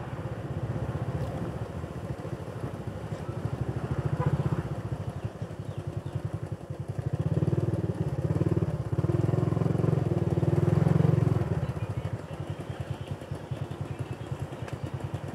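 Motorcycle engines putter and rumble steadily nearby in stop-and-go traffic in Camarines Sur, Bicol, swelling louder as bikes pass, with a constant mechanical clatter throughout.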